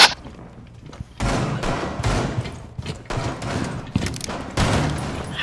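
Gunfire in Rainbow Six Siege: a rapid series of loud bursts and thumping shots rings out close by, coming in several clustered volleys over a few seconds.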